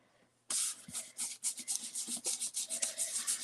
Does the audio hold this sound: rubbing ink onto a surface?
yes